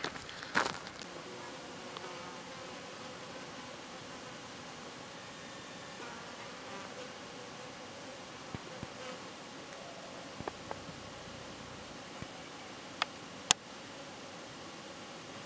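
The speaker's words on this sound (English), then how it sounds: "The buzzing sound? That's mosquitoes." Mosquitoes in the woods make a faint, continuous high buzzing close by, with a few soft clicks and rustles and no one speaking.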